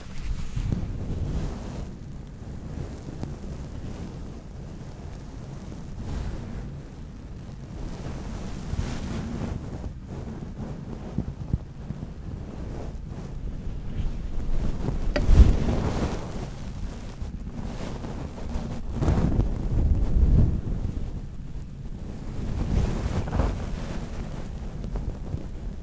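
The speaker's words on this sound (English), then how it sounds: "What do the waves sound like?" Ocean waves roll in with gusting wind buffeting the microphone, a low, continuous rumble of surf that swells and recedes in several louder surges, with no talking.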